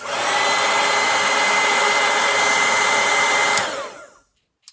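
A hair dryer blows steadily on a watercolor floral painting, a loud continuous whooshing hum that runs for about four seconds, then cuts off abruptly into silence with a faint click at the end.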